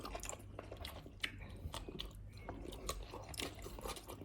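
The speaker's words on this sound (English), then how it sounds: "crunch on the veg" Crunchy vegetables are chewed up close, a steady series of crisp crunching bites with wet squishy chewing, loud and close with no talking.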